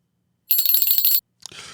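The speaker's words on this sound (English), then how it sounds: "Ring that bell." A bright metallic bell rings in a quick rapid trill for under a second, loud and close, followed by a brief rustling clatter.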